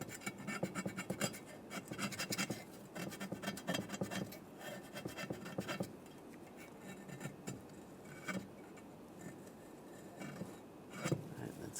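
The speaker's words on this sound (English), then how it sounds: "we're just going to use a razor blade and just scrape the gasket" A razor blade scrapes old gasket material off the exhaust valve mount of a 1998-2010 Volkswagen Beetle, giving quiet, close, irregular rasping strokes in bursts with short pauses between them.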